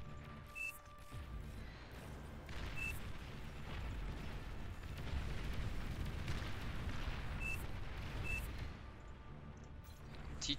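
A commander unit blown apart in the real-time strategy game Beyond All Reason, heard as a sustained, rumbling burst of booms and crashes swelling midway, with small pinging effects scattered through it.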